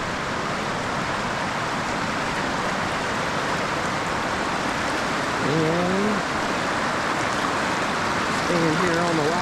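River water rushes over rocks along the Old Sugarlands Trail, a broad, steady, loud hiss of flowing water, with a faint voice briefly rising over it twice.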